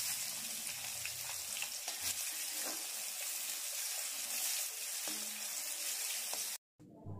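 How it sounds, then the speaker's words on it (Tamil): Finely chopped onion sautés in hot oil with cumin, giving a steady, close sizzle and crackle with occasional stirring scrapes. The sound cuts out briefly near the end. "வெங்காயம் நல்லா வதக்கி விடுங்க."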